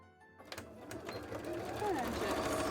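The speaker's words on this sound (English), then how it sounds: "Okay, let's sew the other one while we're here." A sewing machine stitches a cosplay shoe, its motor starting up and then whirring continuously and close, growing louder and steadier toward the end.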